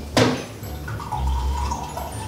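Drinking water is poured into a glass at home. A sharp clink opens it, then a steady trickle of liquid follows with a gently rising tone, heard close and alone.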